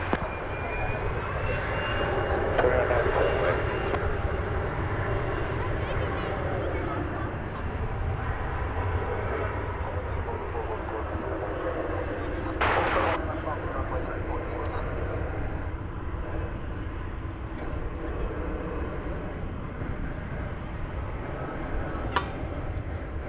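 A jet airliner at DFW Airport spools up and rolls for takeoff, a broad continuous engine roar that swells early and holds steady, while an air traffic controller's radio voice talks over it.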